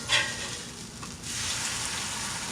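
Food dipped in juice and sauce sizzles on a hot grill, a steady close frying hiss with a brief sharper crackle at the start, no talking.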